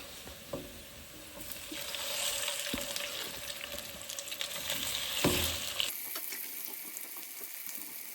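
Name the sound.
fish frying in a pan for fish cakes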